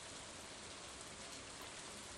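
Rain falls in a Stardew Valley fishing scene, a soft, steady hiss of rainfall on surfaces, very faint and uniform throughout with no voices.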